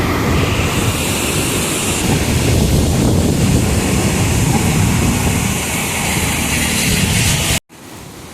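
Fast, flooded river water rushes loudly past the Amaravathi dam near Karur, a steady broadband roar with wind buffeting the microphone, continuous throughout before cutting off abruptly near the end.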